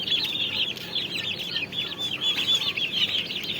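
A cluster of turkey chicks peep continuously in high, overlapping chirps, close by, with no one speaking.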